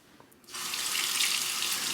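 Running water from a tap gushes into a sink as a safety razor is rinsed off; the steady rush starts abruptly after a brief quiet moment and continues alone.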